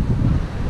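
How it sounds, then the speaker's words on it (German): Strong wind on the Wellington waterfront in New Zealand buffets the microphone, a loud, continuous low rumbling roar with no break and no talk. "Es ist wirklich fucking windig."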